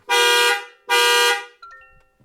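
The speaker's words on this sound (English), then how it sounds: "once the alarm's going off and you start the vehicle, it takes a few seconds and then the alarm will turn off" The alarm on a 2025 Toyota Camry hybrid sounds as two loud, sustained horn blasts, each about half a second long and close by, followed by brief quieter electronic chirps as the alarm shuts off.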